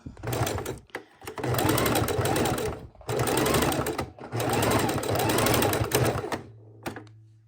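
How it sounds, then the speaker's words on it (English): A sewing machine stitching forward and then in reverse to lock the stitch at the start of raw edge appliqué, loud close whirring bursts separated by brief stops, ending in a quieter hum. "I'm going forward and back to lock in my stitch when I start."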